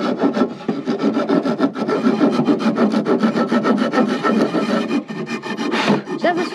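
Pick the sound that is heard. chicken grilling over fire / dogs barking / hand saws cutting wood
hand saws cutting wood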